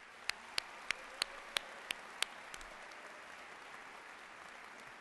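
Applause for graduates at the 143rd West Virginia University journalism school commencement, a faint, distant wash of crowd clapping with a few sharp, close individual claps standing out early before settling into a soft steady patter.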